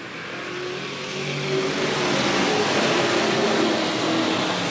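Race car engines roar at Willamette Speedway during a 1989 oval race, a sustained mid-pitched drone that swells louder as cars approach and hold near, with no talk over it.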